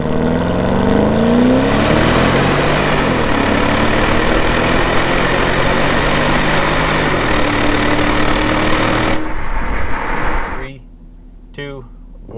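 A Porsche Cayenne Turbo in sport mode accelerates hard, its loud engine drone climbing in pitch before easing off and dropping away near the end.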